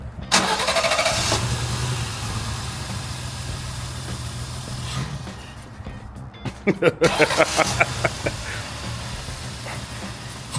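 A BMW E30, left sitting for 10 years and running poorly, cranks and fires into a rough idle, then the engine revs in several quick bursts before settling, loud and close.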